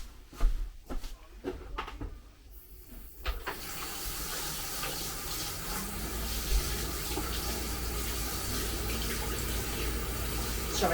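Water runs steadily from a kitchen tap during handwashing, starting after a few seconds of clatter and continuing as a constant close hiss to the end.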